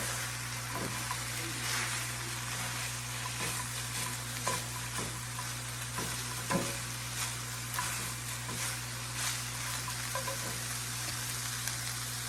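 Steak meat for Philly steak sandwiches sizzles quietly in a skillet under a constant low hum, with occasional scrapes and taps as the pieces are turned.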